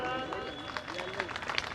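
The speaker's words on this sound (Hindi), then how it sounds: "तो एक बार जबरदस्त तालियों के साथ" Crowd applause at a business celebration program, moderately loud scattered clapping under a speaking voice that carries across the clip.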